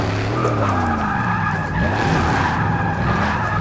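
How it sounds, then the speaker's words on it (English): Tires screech continuously on a stock-to-tuned Dodge Challenger Hellcat drifting in Forza 6, a loud, close, wavering squeal layered over the roaring, shifting engine note with no break. "You can see those tires. They're just losing traction. They're sliding out just enough that we can get that rear end out"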